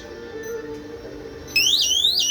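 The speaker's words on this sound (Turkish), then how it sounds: "aktif geldiği için de alarm çalmaya başladı" A motion detector's outdoor alarm siren kicks in after a low steady tone, then wails loudly in rising, repeating sweeps that dominate the final second.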